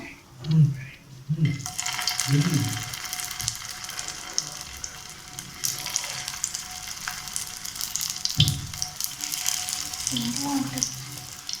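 Potato snack deep-frying in hot oil, a steady bright sizzle that rises after a couple of seconds and continues evenly, with a few soft knocks and faint background sounds underneath.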